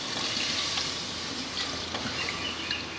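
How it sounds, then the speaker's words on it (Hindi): Water pours steadily into a pressure cooker holding browned meat for a lentil and meat dish, a continuous splashing trickle heard up close without talk. "पानी डाल देंगे, अपने हिसाब से डाल दें पानी।"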